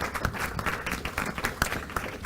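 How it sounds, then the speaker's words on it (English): Audience applause for a guest speaker at a talks and networking event, a dense, steady patter of many hands clapping close by for a couple of seconds with a few sharper claps standing out. "Give it a round of applause to Holger."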